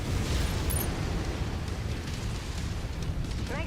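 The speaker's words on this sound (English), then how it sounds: "Nice kill. Explosion" A battlemech explosion in MechWarrior 5 gameplay from the Dragon's Gambit campaign, heard as a loud, sustained rumbling roar that fills the whole stretch with dense low-frequency noise.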